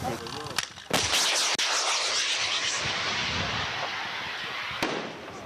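A single loud, sharp blast of an anti-tank missile launch fired by Ukrainian border guards, followed by a long roaring rush that fades slowly, with a smaller crack near the end.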